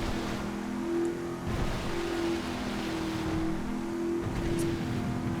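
A Bullet supercar engine in GTA 5 drones at a steady cruising hum, with a constant tonal engine note and a broad rushing roar that stays fairly even and moderately quiet.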